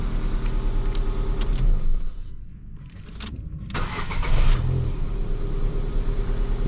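A Ford Fiesta engine with a misfire idles steadily and loudly up close, a low running hum with a brief dip partway through, no talk over it.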